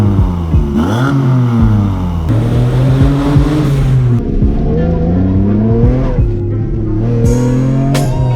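A Mazda RX-8 fitted with a V8 engine roars loudly and close, with repeated throttle blips that rise and fall in pitch and a rumbling idle between revs.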